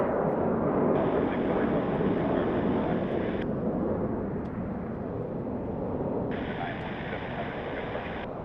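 Jet engines of a Cathay airliner rumble steadily as the plane taxis at an airport, a broad distant roar with a faint high tone coming and going.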